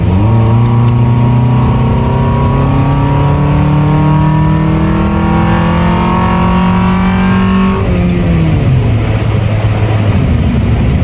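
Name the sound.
Honda Accord engine with intake revving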